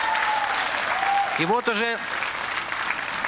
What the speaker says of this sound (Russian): Аплодисменты Олегу Мурикову.